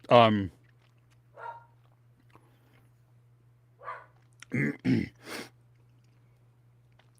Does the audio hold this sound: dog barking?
yes